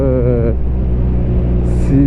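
A Benelli Leoncino motorcycle engine hums steadily while riding in fourth gear at full throttle, a low constant drone that follows a brief voice at the start.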